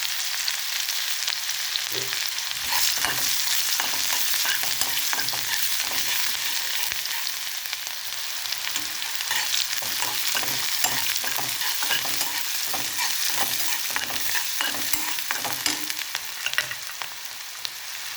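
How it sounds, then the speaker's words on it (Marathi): Onions, with spring onion greens and curry leaves nearby, sautéing in oil in a pan for a spicy bombil dish: steady close sizzling with repeated rhythmic scraping strokes of a spatula, no talking. "याच तेलामध्ये मी आता कांदा परतून घेते"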